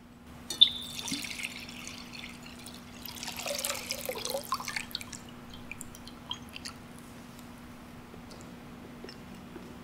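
Water dripping and splashing during the blessing of the water at an Easter Vigil service in a church, with soft pouring and trickling sounds in a quiet, reverberant space, no voices.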